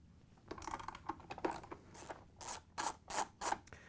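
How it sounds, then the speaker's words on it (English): Ratchet wrench with a 5/16 inch socket and extension backing out the top hinge cover bolt on a Whirlpool refrigerator, giving bursts of close, quiet clicking that grow into louder, evenly spaced ratchet strokes toward the end. "We're going to use our 5/16 inch socket with a ratchet and an extension to take it out."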